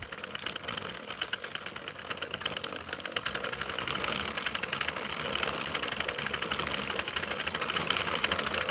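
A 32-pin Mushroom House knitting machine turns out a yarn scarf, producing a continuous close mechanical rattle and ticking that grows slightly louder partway through.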